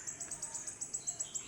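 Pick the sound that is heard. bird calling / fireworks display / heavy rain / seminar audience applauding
bird calling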